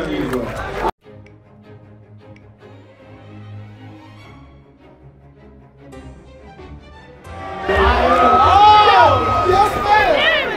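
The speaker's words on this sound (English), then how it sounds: "Clap it up. Give them all a round of applause." A crowd at an anime fan gathering erupts into loud cheering and clapping after a quieter stretch, with voices shouting over the noise.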